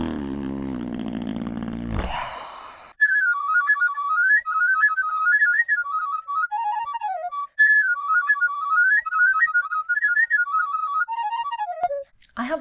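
Tin whistle playing the Irish reel Conor's Maid Behind the Bar at half speed, a bright ornamented melody of quick flowing notes, close and clear, after a brief burst of noise at the start.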